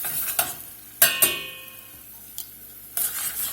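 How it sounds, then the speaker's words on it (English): Minced garlic sizzles in melted butter in a pan, a quiet crackle under a few sharp clinks and scrapes of a utensil stirring against the pan. "Let's let that cook there in that butter just for a minute till it blooms out a little bit"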